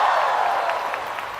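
A church crowd at an International Children's Day gathering claps loudly in a sustained wash of applause, close and dense for the whole moment.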